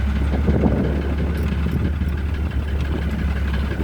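A tractor's engine idles steadily nearby, with a continuous low rumble and vibration that stays even throughout, and no voices over it.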